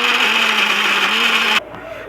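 Mixer grinder whirs loudly at a steady high speed while grinding cooled tomato chutney ingredients in the jar, then cuts off abruptly into a quieter winding-down hum.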